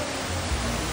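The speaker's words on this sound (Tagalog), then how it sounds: "May sapa dito, dami ang ligo." A creek flows near Kalagangan Bridge, a steady broadband rush of running water, loud and even throughout with no voices.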